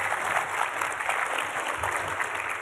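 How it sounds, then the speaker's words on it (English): Conference audience applauding a speaker at a talk on legal challenges of starting a direct primary care practice, a steady even wash of clapping at moderate volume with no talk over it. "round of applause for Luanne"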